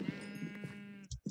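Sheep in a video game bleating, a drawn-out quavering baa followed by two short clipped bleats, fairly quiet and close.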